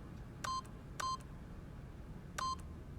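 Keypad PIN entry in the video game The Stanley Parable: three short electronic dial-tone beeps at even spacing, each a crisp multi-tone blip over a faint steady background hum, with no voices.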